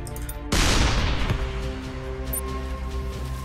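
A tank's artillery shot in the video game ShellShock Live: a sudden loud boom bursts in and rumbles for about a second over continuous game music, then the music carries on.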